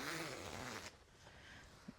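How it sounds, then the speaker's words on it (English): A jacket zipper on a cashmere-style bomber jacket is pulled open in one quick, close rasping run, followed by quieter fabric handling. "take our zipper, unzip it"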